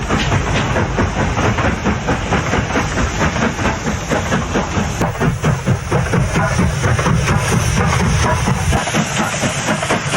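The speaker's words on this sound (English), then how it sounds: "Riddle's Austerity Loco 90160 near Slathwaite heads the 1:30 p.m. mineral train to Huddersfield." A Riddles Austerity steam locomotive, number 90160, hauls a mineral train near Slaithwaite, loud and close, with steady rhythmic chuffing and clanking wagons rolling past throughout.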